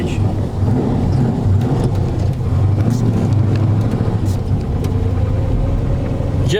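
Low rumbling engine of a 1970 Dodge Super Bee heard from inside the cabin while driving, a steady deep drone with someone talking over it.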